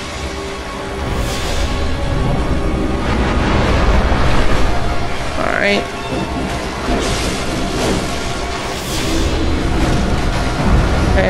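Rumbling explosions and crashing bursts from the video game Bloodborne during the Rom the Vacuous Spider fight, loud and continuous with layered booms, plus a brief spoken word from a player.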